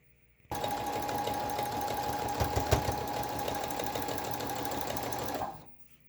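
A sewing machine stitches elastic onto a cloth face mask in one continuous close burst of rapid mechanical whirring and needle clatter lasting about five seconds, then winds down and stops.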